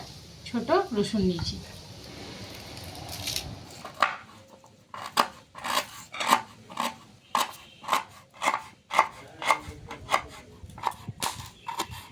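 Ginger being crushed in a Bengali soybean curry kitchen, a run of about a dozen sharp, evenly spaced pounding thuds close by, following a brief burst of speech.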